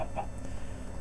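Chickens clucking in a video game set in Crater City, a soft, steady murmur of poultry calls with a couple of brief higher clucks near the start, heard alone without talk.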